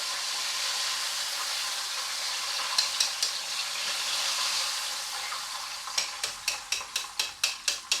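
Semi-dried pollock and sweet potatoes sizzle in hot deep-frying oil, a steady hiss broken by a run of sharp clacking knocks near the end, with no talking.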